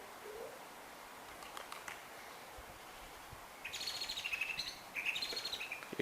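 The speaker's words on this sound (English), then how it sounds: "You've got a lot of birds in my back garden." Birds chirp and twitter in a back garden, thin high calls that grow busier toward the end over a steady low outdoor hiss, moderately distant and with nobody speaking.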